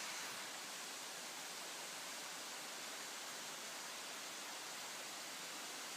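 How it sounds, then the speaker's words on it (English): A thin sheet of water spills over a knife-edge slate weir and cascades onto rocks below, a constant broadband hiss and roar, steady and unbroken, with no voices. "Very careful regulation provides a slither of water to run over the weir, a knife edge of slate, and then cascades onto the rocks below."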